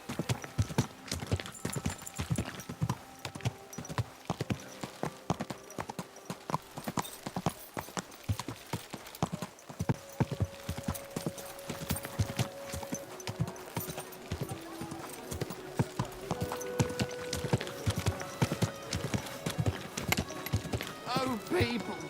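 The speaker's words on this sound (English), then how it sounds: "that looks like a bloody expensive horse" Horse hooves clip-clop steadily through a medieval game scene in Kingdom Come Deliverance II, close and rhythmic across the whole stretch, with music and ambient sound underneath and a snort or whinny now and then.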